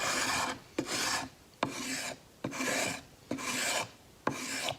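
Steady back-and-forth rasping as the edges of a clay tile are smoothed and bevelled, six even strokes close up, each scrape starting with a small tap, no talking.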